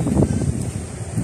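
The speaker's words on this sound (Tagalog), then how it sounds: "Malakas ng hangin." Strong wind gusts buffet the microphone outdoors on a walk past simple houses, a loud low rumbling roar that swells and dips briefly with no speech.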